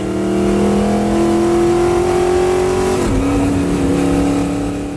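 A 355 ci Chevy Chevelle with a dog box accelerates hard, its engine tone climbing steadily, then dropping sharply as a gear is shifted without the clutch before it pulls again; loud and close, no talk.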